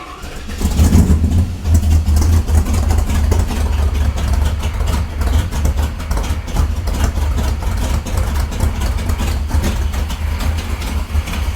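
A Plymouth Road Runner's engine runs steadily at a rough, slightly rich idle just after an EFI conversion restart, a loud, close, low rumble with a quick rev at the start.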